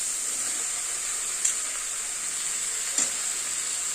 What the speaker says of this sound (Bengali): এটাকে ভালো করে ভাজা ভাজা করতে হবে